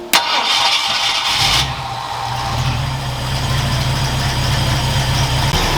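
A Ford Galaxie engine cranks and catches at the start, then settles into a steady, loud, low idle that runs close by for several seconds with no talking.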